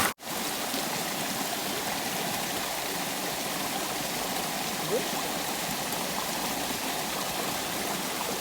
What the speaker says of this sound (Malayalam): ഈ കാണുന്ന സ്ഥലത്തു നിന്നാണ് ഈ വെള്ളച്ചാട്ടം വരുന്നത്